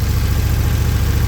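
A 2014 KTM Super Duke twin-cylinder motorcycle engine idles with a steady, low rumble and an even throbbing pulse, close by and continuous, no voices.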